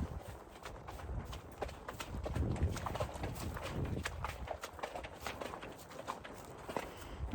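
Horse hooves clip-clop at a walk outside while a young colt named Rooster is ridden, soft irregular thuds heard from the saddle, quiet and close.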